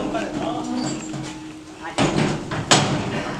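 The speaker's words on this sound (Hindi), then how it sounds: "तो दरवाजा बंद कर दो" A door in a house is shut, making two sharp, close thuds less than a second apart that stand out over background room noise after some talking.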